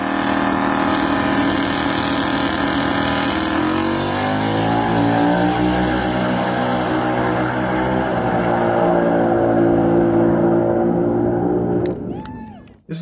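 A VW Lupo fitted with two Golf R engines and two DSG gearboxes runs loud and close, its tone shifting through sustained revving before cutting off abruptly near the end.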